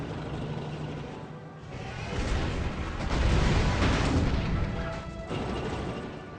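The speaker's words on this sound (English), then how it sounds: "We're going to use the tanks against Ramses' tanks here." Tanks attack in the video game Civilization 5, a dense barrage of booming artillery-like blasts and rumbling impacts that swells in the middle and stays loud throughout, with no voices.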